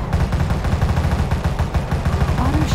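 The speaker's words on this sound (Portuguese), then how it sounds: "Quem tá fuzilando?" Rapid sustained automatic gunfire in the GTA V video game, loud and dense bursts of machine-gun shots filling the whole stretch with no pauses.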